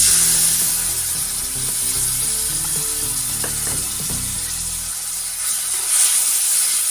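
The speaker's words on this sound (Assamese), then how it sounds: "এতিয়া অকণমান সময় ভাজি ল'ম মছলাখিনি" Masala paste for Assamese fish tenga fries in a pan with a loud, steady hiss and sizzle, joined by stirring scrapes in the middle. No one speaks.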